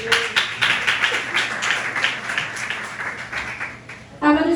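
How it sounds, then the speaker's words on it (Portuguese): A church congregation claps together in a dense, near and fairly loud burst of applause that gradually thins out over a few seconds, followed by a voice starting to speak. "aplaudindo o nome do Senhor."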